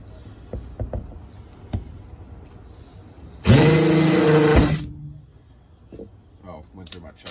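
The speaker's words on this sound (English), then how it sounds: "It's more like grinding it away." A Harbor Freight countersink bit grinds into half inch plywood in a loud, harsh burst of about a second, amid scattered knocks and handling noises before and after.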